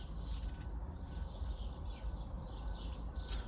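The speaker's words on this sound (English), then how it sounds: "You can just hear the birds chirping." Birds chirp outdoors, faint and distant: light, scattered high tweets over a low rumbling background, no voices.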